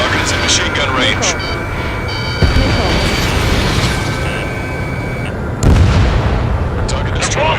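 Machine gun fire and missile hits in the Ace Combat 7 flight combat game: a loud, continuous roar of fire and engine noise with heavier impacts booming through, under radio chatter voices.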